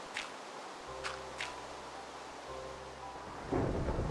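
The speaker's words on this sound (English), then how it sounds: "Rain in Minecraft." Steady rain hiss with low rolling thunder rumbles in Minecraft Beta 1.7.3, a few brief drips or ticks on top and a louder thunder swell near the end.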